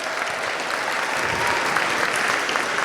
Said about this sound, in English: let's get another round of applause for Miss B and the lower school